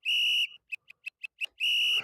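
A referee's whistle sounds in a sports setting: a long shrill blast, a rapid run of five or six short chirps, then another long blast, clear and close with no voices.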